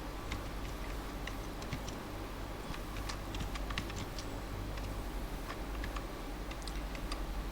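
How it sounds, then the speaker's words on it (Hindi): Keys clicking on a computer keyboard as a company name is typed into accounting software, a steady run of light, close ticks over a low constant hum with no talk. "जैसे मैं यहाँ पे टाइप कर देता हूँ"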